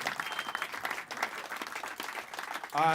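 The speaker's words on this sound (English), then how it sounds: "So the last 2-3 big rounds of applause." Audience at a pop-up comedy show applauding, dense sustained clapping from a crowd filling the room, ending as a loud voice cuts in with a tonal burst.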